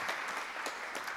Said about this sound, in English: Can we give one more round of applause for Maharaj for his class today and visiting us?